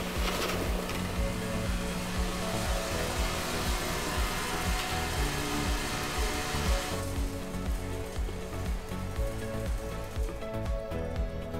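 A VF100e vibratory filler machine running a fill, giving off a steady dense hiss and buzzing rattle that stays loud and even throughout, with a slight drop in the high hiss partway through.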